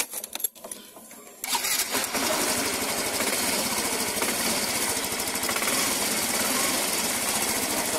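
Yamaha Mio i125 scooter engine idling with a dense, buzzy rattle after a brief quiet start, running steady and close throughout during a spark test for an engine-shutdown fault.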